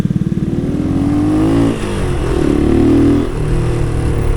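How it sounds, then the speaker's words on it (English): Honda motorcycle with a loud, rowdy aftermarket exhaust, revving up close in deep throaty bursts that swell, briefly drop off, then climb again. "With that exhaust, every part as rowdy as the bike should have been."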